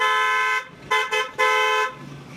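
Horn of a Honda CG 125 motorcycle blares nearby in a few short honks: one longer blast, two quick taps, then another sustained toot, with nobody talking.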